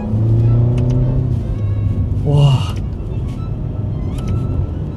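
A Ferrari sports car shifts gears while driving through the city, its engine rumble dipping and rising in a brief rev around the shift, close and steady beneath a man's speech.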